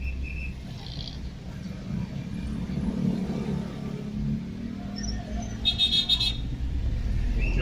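Manila road traffic heard from inside an old Toyota, a low steady engine and road rumble with a couple of brief faint horn toots in the distance and a slightly louder passing vehicle near the end.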